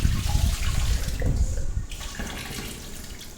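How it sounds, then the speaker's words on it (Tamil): Tap water runs steadily over mushrooms being rinsed in a kitchen sink, a close splashing gush that softens and thins out over the last second or so. "இப்போ தண்ணியை விட்டு நல்லா அலசி எடுத்துக்கலாம்."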